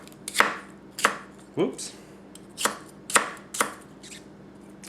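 A Tanaka Kurouchi 210mm gyuto knife chops food on a cutting board, giving six separate sharp knocks spaced about half a second to a second apart. The strikes are close and fairly loud, with a brief spoken exclamation between them.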